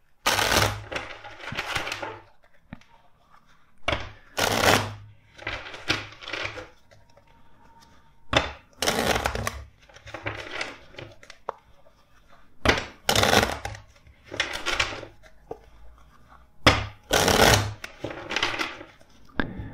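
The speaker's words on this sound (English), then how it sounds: "let's shuffle the deck four times for you" A deck of tarot cards is shuffled in several separate bursts, each a quick riffling flutter with soft slaps of cards, close and clear, with quiet gaps between the rounds.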